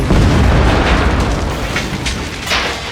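A loud explosion from a scene in the TV show The Sopranos booms at once and rumbles on, with further bursts and crackles toward the end, heard alone without talk.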